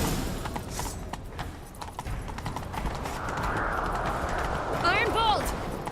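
Hooves clip-clop as a horse gallops in The Witcher 3: Wild Hunt, the rhythmic beat running under loud ambient noise with a brief whinny near the end.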